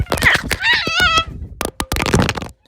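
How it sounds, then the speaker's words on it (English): A suspected rabid fox attacks a woman in a backyard on the west side of Tucson: shrill, wavering animal cries and frantic human screams mixed with thumps and a scuffle, recorded up close on a shaky cell phone. "That is the sound of the fox attacking Leanne Burgess that day."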